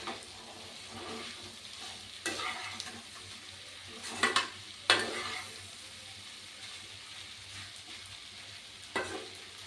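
Pasta with vegetables and masala being stirred in a pan, a soft continuous sizzle broken by several sharp scrapes and clinks of a spoon against the pan, close and fairly quiet.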